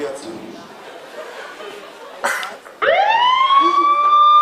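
A rising siren wail starts loud and sustained after some chatter and a brief noisy burst; people talk in the background.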